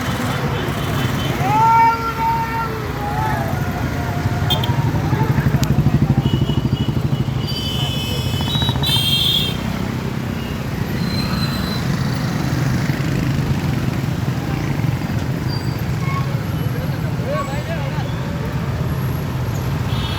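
A large motorcycle rally for the Sulebhavi village fair sets off from the Mahalakshmi temple grounds. Engines drone steadily for the whole stretch, with passing revs and crowd voices mixed into the roar.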